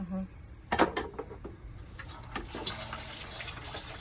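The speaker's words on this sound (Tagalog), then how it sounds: "Fried ho natin siya hanggang maging crispy." Boiled pork belly dropped into hot oil for lechon kawali, a sharp clatter and splash, then a steady hiss of frying, with a voice talking over it.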